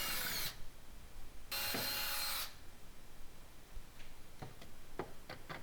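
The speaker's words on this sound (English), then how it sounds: "now drill the holes for the right-hand side using the tabs as a" A power drill boring mounting holes during the build of a large DIY solar generator, two short whining bursts of about a second each, separated by a pause, followed by faint ticking and tapping.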